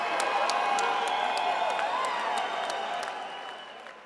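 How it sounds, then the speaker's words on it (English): Crowd applause and cheering at the Front Street Fights 5 professional MMA event: a broad wash of cheers and clapping with some whoops and scattered claps, moderately loud and fading a little toward the end. "How about a round of applause for both of our fighters"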